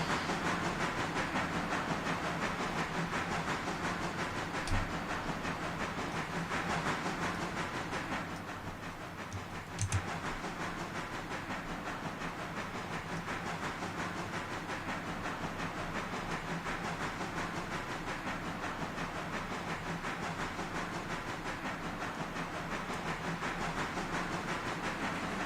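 A model railway train runs steadily with a slight continuous hiss, a dense even wash of sound holding for the whole stretch with one or two faint clicks and no voices.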